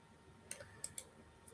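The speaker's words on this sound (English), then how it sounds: "I'm typing something" A few quiet, isolated clicks of computer keys being typed, three sharp taps close together followed by a faint fourth, otherwise near silence.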